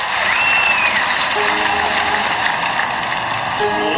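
Applause from a tennis crowd fills a London 2012 Olympics video game, a dense, steady wash of clapping that stays loud and even throughout, with no commentary over it.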